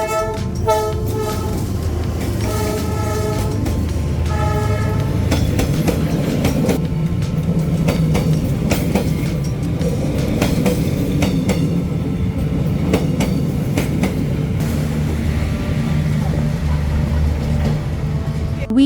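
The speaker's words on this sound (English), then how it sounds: "we really got up close to the train, which was an incredible experience." A train rolls by at close range along the narrow train street in Hanoi's Old Quarter. Loud continuous rumble, wheel clatter and horn toots run throughout the clip, with no one talking.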